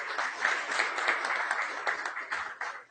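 A crowd applauds at a public hearing, a dense, steady wash of many hands clapping close by for about three seconds, tapering slightly at the end.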